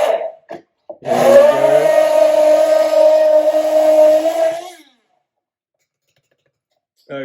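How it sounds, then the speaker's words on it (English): A hand blender blitzes cocktail ingredients for a St Patrick's Day drink, giving a steady, close, high motor whine for about four seconds, with brief clicks before and silence after. "I'm going to take my favourite bit of kit, this hand blender, and I'm going to blitz everything together"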